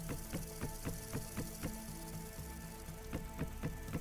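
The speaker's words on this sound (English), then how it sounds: "And it's starting to rain." Rain in the game Vintage Story: a soft, even patter of drops under a string of regular, fairly faint ticking knocks and a low tonal hum, with no speech.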